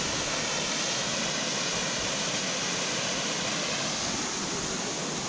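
Dyserth waterfall in Wales, flowing since 1886, roars as a steady, dense wash of falling water, loud and unbroken with no voices over it.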